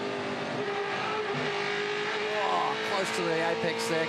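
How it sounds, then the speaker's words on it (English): A 2015 Touring Car Masters race car at Adelaide, heard onboard, its engine held hard against the rev limiter in fourth gear, with a steady loud drone and some stuttering near the end, while a commentator talks over it. "On the rev limiter down here in fourth."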